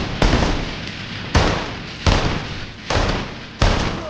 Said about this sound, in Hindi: एक के बाद एक गोलियां चलीं।